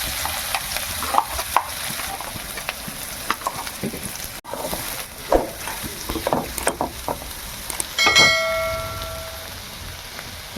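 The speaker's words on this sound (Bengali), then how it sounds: "কড়াইতে যা তেল আছে ওই তেলেই আমি রান্নাটা করব। পেঁয়াজগুলো যে কুচিয়েছিলাম ওটা কড়াইতে দিয়ে" Chopped onions fry in leftover oil in a wok, with soft intermittent sizzling and scattered scraping stirs at a fairly quiet level, plus a brief metallic clink near the end.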